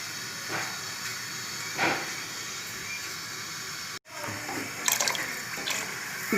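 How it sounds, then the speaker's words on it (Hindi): Water poured from a jug into a pot of dal being cooked for a Sargodha-style recipe, a steady continuous splashing hiss lasting several seconds with a brief break, close and moderately loud with no talk. "अब इसके अंदर मैं ये जग पानी का डाल दूँगी।"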